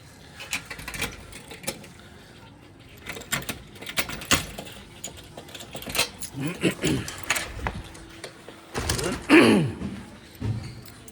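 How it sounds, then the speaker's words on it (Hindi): Keys jingle and a hall door lock clicks open amid scattered thumps and creaks, with a voice occasionally heard nearby. "मैं चाबी से हॉल खोलता हूँ पहले"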